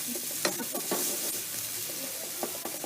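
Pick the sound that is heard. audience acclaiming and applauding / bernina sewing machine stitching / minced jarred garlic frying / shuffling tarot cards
minced jarred garlic frying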